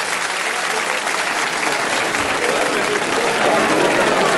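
Loud, dense applause from a crowd at a village unity night in Yukarı Canbaz welcoming sponsors to the stage, a steady roar of clapping that holds without a break from start to finish.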